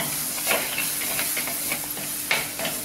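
Ground masala spice powder sautéing in oil in a pan for a fish curry, a steady soft sizzle broken by the scrape and clatter of stirring at irregular moments, with no voices.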